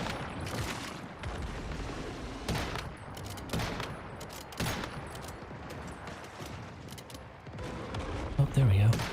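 Biomass missiles fired in the video game Once Human, heard as repeated sharp bursts and booming impacts in rapid, uneven succession, fairly loud with a voice talking at times.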